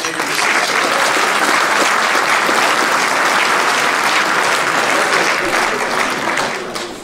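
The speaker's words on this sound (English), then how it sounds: "let's give River Smith's Fish and Chicken a big round of applause for him" Audience at a Muleshoe High School athletic awards banquet breaks into loud, sustained applause that fills the room evenly for several seconds before tapering slightly at the end.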